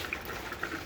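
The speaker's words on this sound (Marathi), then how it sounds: "पाणी टाकलं." Water poured into a pot of Nagpur-style chicken curry, a soft continuous liquid splashing and bubbling, faint and steady for under a second.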